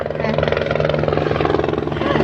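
A helicopter flies overhead during a salmon fishing outing, its steady rotor thump rumbling loud and continuous while excited voices chatter over it.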